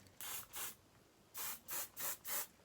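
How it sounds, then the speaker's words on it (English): Hairspray misted onto short curly hair, six soft aerosol bursts close up: two quick sprays, a pause, then four rhythmic sprays in a row, faint and airy with no talking. "I kind of just like lift it up and separate the curls and spray them."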